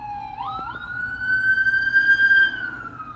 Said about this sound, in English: got a lot of ambulance, man